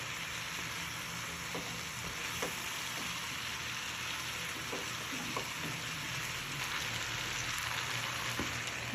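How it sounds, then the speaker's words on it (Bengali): Chicken pieces with spices frying slowly in a pan for a potato chicken curry, a steady soft sizzle with scattered light pops and crackles, close and continuous with no talking. "এগুলোকে এখন আস্তে আস্তে ভেজে নিচ্ছি মশলাটা ভাজা"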